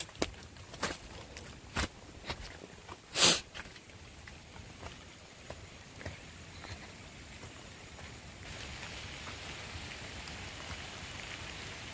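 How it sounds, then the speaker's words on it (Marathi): Rain falling on a farm in a Konkan village, a soft continuous patter with scattered close drips and one sharp knock, swelling slightly toward the end. "पाऊस लागता आणि मी छत्रेशिवाय फिरतोय सगळीकडे."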